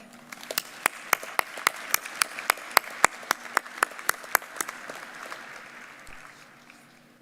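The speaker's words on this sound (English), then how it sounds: "Please join me in saluting our faculty with a round of applause." Sparse, evenly spaced hand claps at a university commencement ceremony salute the faculty, sharp and fairly faint against a quiet hall, slowing and thinning toward the end.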